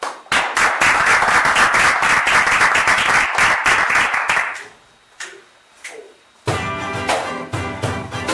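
Live audience applause for a band at a radio studio event, a loud dense burst of clapping that fades out, followed by music starting.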